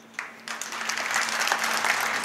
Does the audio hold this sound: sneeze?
no